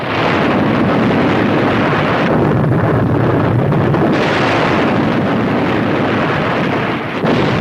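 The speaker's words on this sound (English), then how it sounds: "Look at them explosions, throw that water in the air." Underwater explosions throw water into the air in a deep, rumbling broadband roar that swells and holds, with wind buffeting through it and no clear separate blasts.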